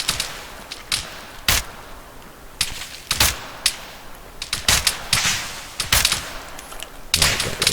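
Rifle fire in the military shooter ARMA 3 during a long-range AI firefight: sharp, irregular cracks and short bursts, some loud and close, others softer and distant, with rolling echoes between shots and no talking.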